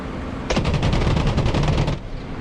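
Spitfire machine guns firing in a flight simulator game, one loud rapid burst of about a second and a half that stands out against the steady engine drone.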